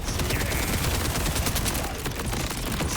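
Rapid continuous gunfire from the sticky variant of the Bod Melter gun in Borderlands 4, a dense crackling barrage of shots with overlapping impacts, loud and close throughout with no pauses.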